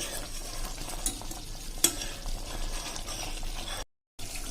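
A spoon scrapes and stirs cream into ghee in a sizzling pan over full flame, with a soft continuous frying hiss and a sharp clink partway, then a brief silent gap.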